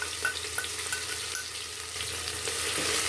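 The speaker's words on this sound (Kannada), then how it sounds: "ಸ್ವಲ್ಪ ಎಣ್ಣೆಯಲ್ಲಿ ಚೆನ್ನಾಗಿ ಹುರ್ಕೋಬೇಕು" Cumin seeds and ginger frying in a little oil in a pan, a steady close sizzle with occasional crackles and stirring scrapes, no talking.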